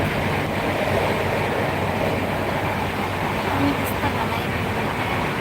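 A moving passenger train on a journey, a steady loud rumble and rushing noise of the carriage from start to finish, with no clear talk over it.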